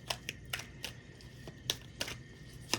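Tarot cards are chaos shuffled by hand, producing quiet, irregular slaps, clicks and soft riffles spaced unevenly over a few seconds, with no one speaking.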